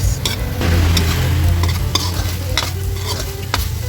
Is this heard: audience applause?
no